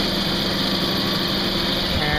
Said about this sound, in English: now you can see the air conditioning compressor cycling,